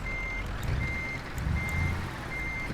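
Truck reversing alarm in Euro Truck Simulator 2, driving a Scania with a refrigerated trailer: a steady high electronic beep repeating in long even pulses over a low engine rumble, with no talking.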